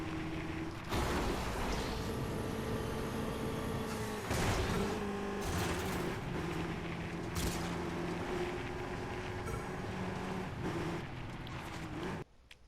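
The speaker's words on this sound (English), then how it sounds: "it has the normal combustion engine sound, as it is not an EV" Steady combustion engine hum of a Lego car in the Lego 2K Drive video game, a continuous droning note that swells and shifts pitch slightly with throttle changes throughout, then cuts off abruptly near the end.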